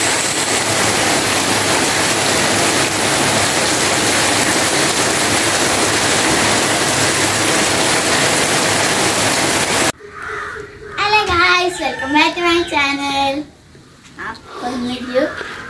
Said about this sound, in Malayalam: അപ്പോൾ നല്ല മഴയാണ്